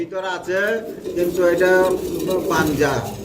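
Pigeons in a close loft coo in repeated, rolling throaty phrases, one after another with barely a pause, loud and near.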